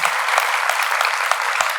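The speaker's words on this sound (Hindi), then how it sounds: "ज़रा सा आप मुझे पूरी तालियों से हिम्मत दे दीजिए, हौसला दे दीजिए" An audience at a kavi sammelan poetry gathering bursts into loud, sustained applause, a dense continuous roar of many hands clapping close and evenly.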